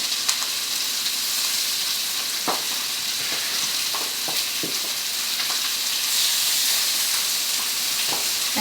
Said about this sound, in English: I'm going to place my fillets here into this pan.